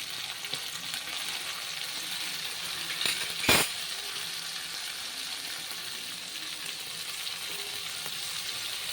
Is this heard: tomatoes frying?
yes